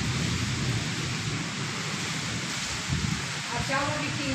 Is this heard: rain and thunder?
yes